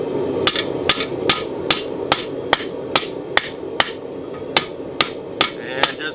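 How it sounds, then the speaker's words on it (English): Blacksmith hammer striking hot steel on an anvil while forging a spoon, about fourteen crisp, ringing blows at a steady, unhurried pace, loud and close with no talking. "just light hits now, cleaning up the hammer blows and going a little slower"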